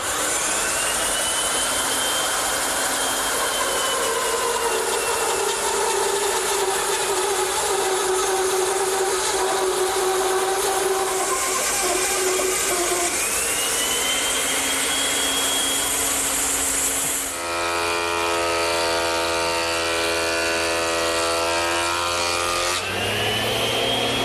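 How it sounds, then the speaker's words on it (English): A bandsaw with a 1-inch blade re-saws a board: a loud, continuous whining drone with shifting tones as the cut proceeds, changing pitch sharply near the end, with no talking. "To re-saw it, I'm going to use the bandsaw. I'm using a 1-inch blade"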